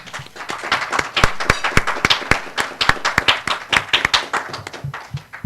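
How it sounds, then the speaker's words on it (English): A crowd applauding steadily at a technical society meeting, many hands clapping in a dense, continuous patter that stays loud throughout. "So of course, give a round of applause."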